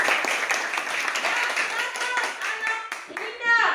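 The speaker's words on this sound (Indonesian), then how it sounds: "kita berikan tepuk tangan dulu." A class of students claps hands together during a Christian religious education lesson, a steady stretch of close, overlapping clapping with voices talking over it, ending as someone speaks.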